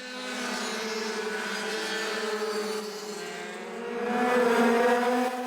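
Snowmobiles racing on an ice speedway in a Wisconsin blizzard, engines droning and whining in a sustained high-pitched roar that swells louder near the end as machines pass, no voices.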